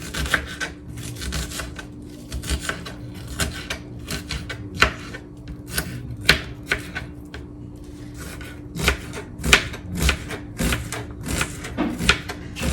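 A knife chops food on a cutting board in quick irregular bursts of sharp close taps and thuds, clustered in runs across the whole stretch with pauses between, and no voices.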